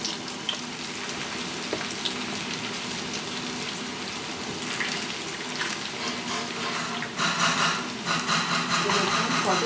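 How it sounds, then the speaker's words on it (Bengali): Hand-made rolls deep-frying in hot oil, a steady close hiss and crackle running throughout, swelling into louder bursts of bubbling toward the end. "বন্ধুরা তেলটা আমার গরম হয়ে গেছে, এবার আমি এক একটা করে এই যে রোলগুলো করেছিলাম দিয়ে দেবো।"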